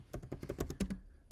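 Typing on a computer keyboard while designing in Adobe Express: a quick, close run of about a dozen light key taps in an uneven rhythm, with a short pause before a final firmer tap.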